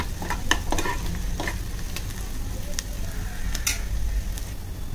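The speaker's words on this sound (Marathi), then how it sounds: "कांदा थोडा काळा करून घेतला कॅरेमल सारखं टेस्ट येण्यासाठी कांद्याला" Onions fry in a pan until darkened and caramelised, a steady close sizzle with several sharp scrapes and clatters as they are stirred.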